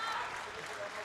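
A powerlifting crowd at a world equipped championship cheers and claps loudly for lifter Nikki Lentz in a dense burst of applause and shouting.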